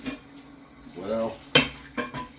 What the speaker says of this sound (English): why am I sitting here watching this dude do his dishes?